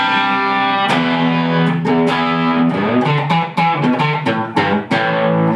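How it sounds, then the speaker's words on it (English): PRS electric guitar played through a Cornford Roadhouse amp on a slightly driven channel, a solo line of sustained notes and chords with a warm, lightly overdriven tone, close and loud with no talking. "And the basic sound of the guitar sounds like this."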